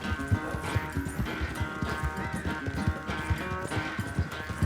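Horse galloping in Red Dead Redemption 2: rapid, steady hoofbeats pound close and loud, with game music and ambient sound running underneath throughout.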